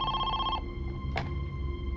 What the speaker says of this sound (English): the phone finally rang.